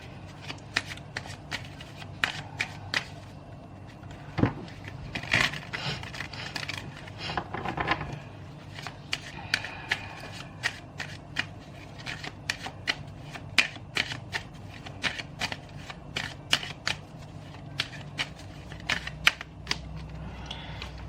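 Chakra oracle cards being shuffled by hand, repeated crisp riffling bursts and soft slaps in an irregular rhythm, close and fairly quiet, with no talking.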